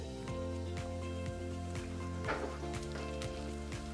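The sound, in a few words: onions and celery cooking in a pot over medium-low heat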